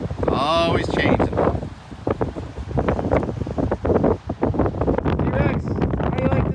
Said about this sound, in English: T-Rex, how do you like this wind?